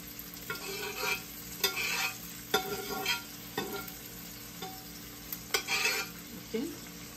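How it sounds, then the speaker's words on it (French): Salted fish sautéing in a pan for an African dish, with a steady sizzle and repeated stirring scrapes at an irregular rhythm, close and moderately loud. "Je vais faire sauter un peu mon poisson salé."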